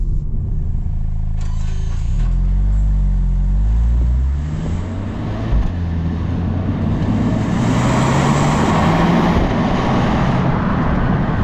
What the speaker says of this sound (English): when you push it, it's just got that, you know, typical modern whooshing sound